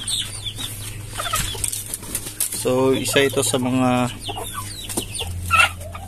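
Hens clucking and fowl calls rise in a short burst midway, heard close under a man's ongoing speech with a steady low hum behind.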